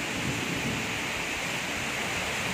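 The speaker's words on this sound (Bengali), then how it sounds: "এত বাজ পড়ছে আর এত পরিমাণ বৃষ্টি হচ্ছে, ঝড় উঠেছে।" A heavy downpour roars as a constant dense hiss during a storm with lightning strikes, loud and close with no voices and no separate thunderclap standing out.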